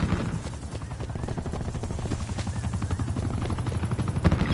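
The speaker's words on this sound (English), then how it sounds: "Enemies have control of our attack chopper." An attack helicopter in a video game thrums with a steady rotor chop, moderately loud and continuous, with faint clattering under the blades.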